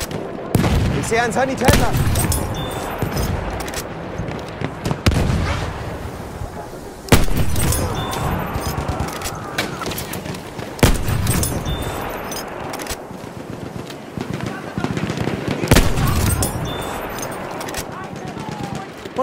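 Enemy machine gun fire in Battlefield 1, with repeated loud bursts and sharp cracks across a noisy battlefield, while a voice calls out in German over the gunfire.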